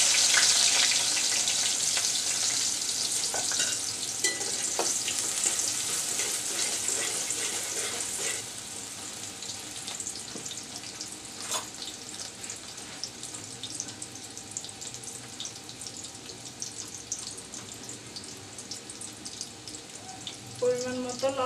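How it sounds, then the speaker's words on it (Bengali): Garlic cloves and chopped onion fry in hot oil in a cooking pot, giving a steady, dense sizzle that starts loud and settles slightly softer over about twenty seconds. "প্রথমে আমি ডেক্সিতে পরিমাণ মতো তেল নিলাম, দিচ্ছি 4-5 কোষ রসুন, অল্প পেঁয়াজ কুচি"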